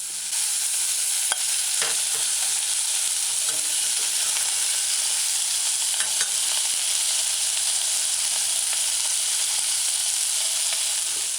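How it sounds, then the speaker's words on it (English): Meatballs fry in a pot for a tomato stew and are turned with a cooking spoon, making a steady broadband sizzle throughout. A few soft spoon knocks and scrapes come through near the start and middle, and there is no talking. "So you just use a cooking spoon and rotate your meatballs"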